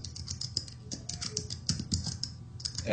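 Rapid clattering keystrokes on a computer keyboard, an uneven stream of close, crisp taps with no talking.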